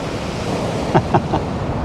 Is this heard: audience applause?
no